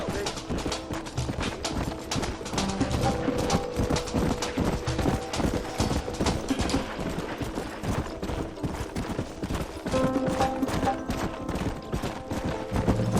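Horse hooves clip-clop in a Red Dead Redemption gunfight, the rhythmic trotting mixed with bursts of gunfire and a horse's whinny, continuing steadily throughout.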